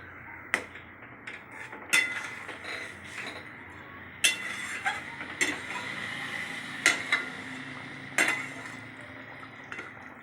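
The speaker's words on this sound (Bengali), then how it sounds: "ভালো করে নাড়াচাড়া করে নিলাম" Fried lentil dumplings are stirred in a yogurt curry pot: soft scattered scrapes and sharp metallic clinks of a spoon against the pot, spaced irregularly over a quiet low bubbling.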